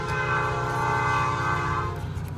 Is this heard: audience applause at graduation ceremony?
no